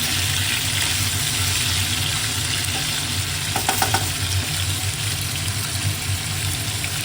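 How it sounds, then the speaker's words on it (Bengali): A kitchen chimney exhaust hood runs with a steady, loud broadband whir and low hum while egg, soybean and potatoes fry beneath it, adding a constant sizzle and a brief clatter midway. No one speaks. "যখনই আমি রান্না করি এটা আওয়াজ হয়, বিকজ চিমনি চলছে তার জন্য"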